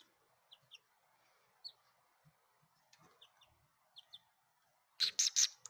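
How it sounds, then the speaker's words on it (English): Quail chicks kept indoors give faint, high, thin peeps, scattered single and paired chirps over a quiet room, followed by a louder close burst of rustling at the end. "I wanted to give you guys an update on the quail babies"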